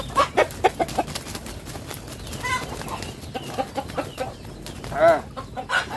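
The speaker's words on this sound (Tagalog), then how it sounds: "Ito yung isang natira natin na barako." A rooster (barako) close by clucking in short bursts with a strained crow-like call midway, loud and near, with faint background noise.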